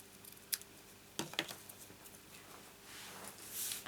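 Scissors trim off excess from a paper card-making project, giving a few quick, faint snips near the start and middle followed by soft rustling of the paper.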